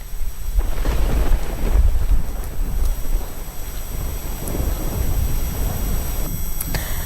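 Heavy rain pours steadily with low rumbling thunder and gusty wind noise underneath, a dense, continuous roar throughout, during a downpour of over six inches in 24 hours in Bhiloda taluka, Gujarat.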